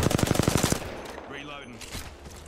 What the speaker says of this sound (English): Knuckle clusters firing.